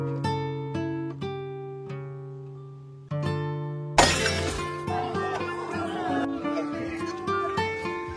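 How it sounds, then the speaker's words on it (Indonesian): A wine bottle shatters at a birthday party after a failed attempt to open it with a golf ball: one sudden loud crash of breaking glass cuts in over steady, gently ringing music. "aksi itu gagal yang membuat botol wine-nya pecah tepat di hadapan Francis"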